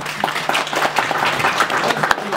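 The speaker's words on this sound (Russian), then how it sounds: "Давайте аплодируем" A seminar group in a room gives a round of applause, with separate hand claps audible as a fairly close, uneven patter that holds steady for a couple of seconds.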